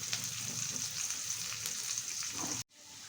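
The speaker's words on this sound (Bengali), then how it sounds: "পেঁয়াজটা লাল লাল করে ভাজা হয়ে গেছে" Onions fry with salt in a pan, a quiet, close crackling sizzle that runs steadily and then cuts off abruptly near the end.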